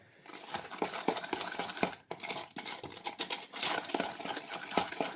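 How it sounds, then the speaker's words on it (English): A spoon scrapes and clinks against a bowl of lemon blueberry overnight oats in quick, irregular strokes, close and fairly loud for about five seconds with no talk. "So I'm just going to give this a stir up"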